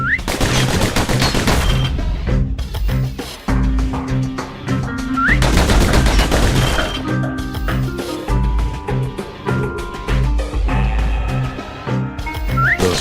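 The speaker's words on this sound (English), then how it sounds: "Those pistols could spit out rounds just as quick as you could pull the trigger." Rapid pistol gunfire from the video game Bastion crackles in quick bursts over a loud musical score, with shots and impacts packed densely across the whole stretch.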